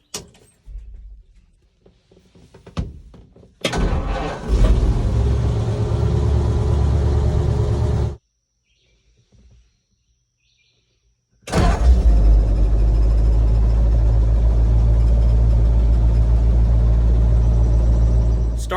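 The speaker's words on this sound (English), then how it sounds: "start the vehicle up. The starter should crank over faster." A 1951 Ford truck converted to 12 volts cranks and fires, then idles with a steady low rumble; after a brief silence it restarts and runs on, loud and close.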